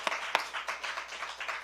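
A church congregation claps during a sermon, a short run of scattered, uneven hand claps with a couple of sharper close claps standing out, fairly quiet and thinning as it goes.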